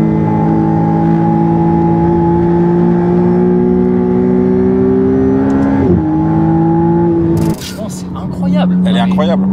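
A McLaren Artura hybrid supercar with a V6 engine idles and revs steadily, with a short sharp blip near the end, heard close and loud under a layer of conversation.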